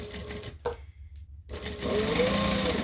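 A sewing machine stitches a bag, running in short loud bursts with a brief stop in the middle before a longer steady run of back stitching up close.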